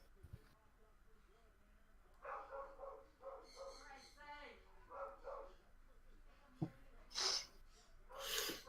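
Dogs snort, huff and give short barks close by in a quiet room, with a few sharp sniffs and breaths between them and a soft background hiss.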